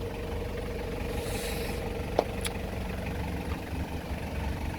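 A 1996 Toyota Hiace turbo diesel engine runs at a steady low idle with a constant rumble, close and even, broken only by a single sharp click near the middle and no voices.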